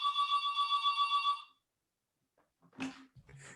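A home telephone rings with a rapid trilling electronic bell for about a second and a half, then stops, followed by a brief voice.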